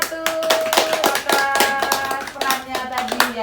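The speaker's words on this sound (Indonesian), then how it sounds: "tepuk tangan untuk kelompok 1" Applause for a group of presenters at the end of a stunting training session, with a few claps standing out sharply over a voice talking through most of it.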